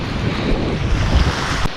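Ocean surf rolling in at a Gold Coast beach in Australia, a steady broadband wash of breaking waves heard close, with wind buffeting the microphone throughout and no voices.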